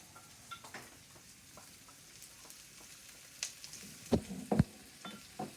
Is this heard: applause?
no